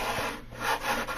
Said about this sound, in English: keep doing it until the sandpaper runs smoothly over the edge, around the corners